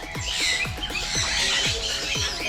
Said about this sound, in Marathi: इकडे आला तो मोठा पोपट.